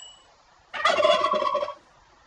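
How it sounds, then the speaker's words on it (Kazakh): A turkey gobbles once in a loud, rapid warbling burst of about a second, as a sound in an animal-sound game, after a moment of near silence. "үндік"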